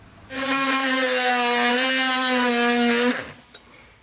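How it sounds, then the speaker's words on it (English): A power tool cuts back plastic trim on a 2016 Jeep Cherokee to fit trailer hitch clips, a loud steady high whine holding for about three seconds before winding down and stopping. "So I'll go ahead and cut this back, and that should be enough for this to snap in and get our clips in."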